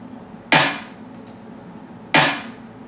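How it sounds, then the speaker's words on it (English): Layered clap and snare drum samples in a 148 BPM beat: two crisp, bright hits about one and a half seconds apart, each with a quick decay over a faint background. "layer the clap and the snare together to make it a fuller sound"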